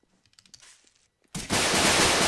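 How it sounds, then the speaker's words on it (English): Roblox video game gunfire: after a stretch of quiet scattered noises, a sudden loud, dense burst of rapid shots rings out close by and keeps going without a break. "Oh my god, people are shooting over there."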